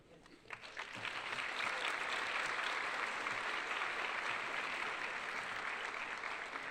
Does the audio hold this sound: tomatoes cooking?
no